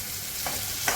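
Dry fenugreek seeds sizzle in hot oil while a Rajasthani raw mango curry is cooked, a steady soft frying hiss with a couple of brief brighter crackles.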